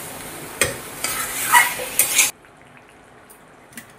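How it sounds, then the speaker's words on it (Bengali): Fish curry broth bubbles and sizzles in a pan while a utensil stirs and scrapes against the metal for about two seconds, then the sound drops to a low hush with a faint tap near the end. "ঝোল ফুটে গেছে, ঝোল ফুটে গেছে।"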